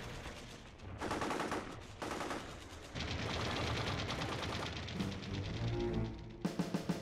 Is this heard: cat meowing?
no